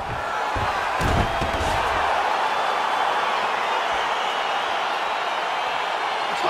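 Arena crowd in the EA Sports UFC 4 fighting game roars with sustained, dense cheering as a fight gets underway, a steady wash of noise with a few louder thumps near the start.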